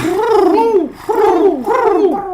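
A person imitates a pigeon's cooing with the voice, three rounded, throaty warbling coos in a row, close and loud.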